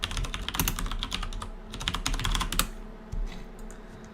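Rapid clattering keystrokes on a computer keyboard, close and fairly loud, arriving in dense bursts with brief pauses and no voices.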